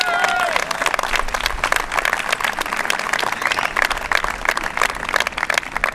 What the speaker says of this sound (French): pour le public qui est autour, je veux que vous les applaudissiez tous.